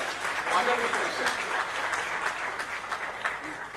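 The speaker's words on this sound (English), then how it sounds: "Big round of applause, ladies and gentlemen, for a wonderful session." Audience applauding at a business industrial conclave, a dense, steady wash of clapping hands from a sizeable indoor crowd, sustained throughout with occasional sharper claps standing out.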